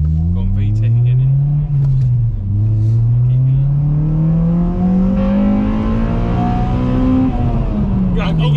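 A Honda Civic EP3 engine revs hard and rises steadily in pitch as it climbs into VTEC, a loud sustained close-up drone heard from inside the car, with people talking over it.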